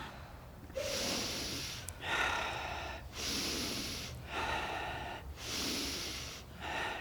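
Deep, forceful breathing during a meditation exercise: long rushing inhales and exhales repeat at a steady pace, close and loud, with a slight snorting edge and no speech.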